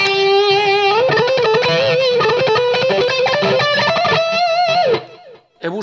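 A guitar amplifier on its orange, more distorted channel plays a sustained, saturated guitar phrase, loud and continuous for about five seconds before cutting off, with a brief scrape at the end.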